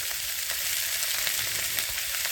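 Chopped green chillies fry briefly in a pan while a chilli pickle is made, producing a close, even sizzle with light stirring taps throughout.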